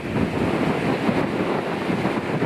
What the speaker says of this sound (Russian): Ветер, конечно, сегодня хороший.